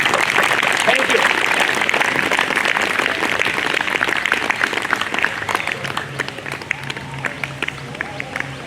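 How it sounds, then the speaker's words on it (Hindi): Loud audience applause at an International Yoga Day event, dense clapping that fills the room and slowly thins out toward the end, with a voice speaking over the tail. "जोरदार तालियां।"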